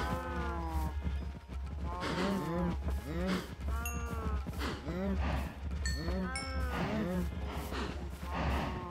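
Several cows in the Minecraft modpack GT New Horizons moo repeatedly in long, drawn-out calls, one after another, over a constant low background drone.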